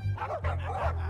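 Small barking and yipping of poodles in The Legend of Monkey Island game, a few quick barks heard close and loud over a steady low drone.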